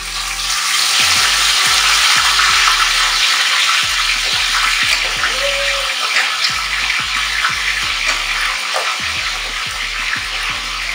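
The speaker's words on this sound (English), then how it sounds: "So now we're going to go ahead and add our lobster to the oil." Lobster pieces frying loudly in very hot oil with garlic and pepper for escovich lobster, a steady close sizzle with no talk.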